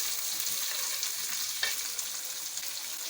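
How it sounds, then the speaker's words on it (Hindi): Tomatoes drop into a pan of browned garlic and ginger frying in oil, a steady hiss of sizzling with a single sharper crackle partway through, heard close with no voices. "अब हम इसमें टमाटर को शामिल करते हैं।"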